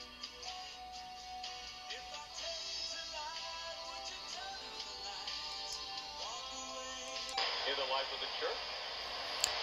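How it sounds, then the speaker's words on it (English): AM radio reception from a small handheld ham radio, a voice coming through hiss and static with fluctuating tones. "Is what AM sounds like."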